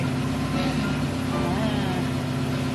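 A race car engine runs at a steady idle, a loud continuous low hum that fills the whole stretch, with people talking over it.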